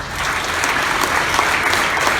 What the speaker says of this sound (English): if you would just give the folks, sworn and civilian, one last round of applause before we close this out